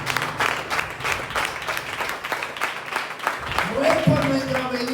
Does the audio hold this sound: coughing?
no